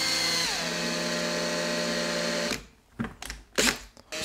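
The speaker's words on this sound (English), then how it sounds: "Don't go too crazy with a drill." An electric drill, used on a Tamiya RC car, whines steadily at speed, winds down and stops, then gives a few short bursts.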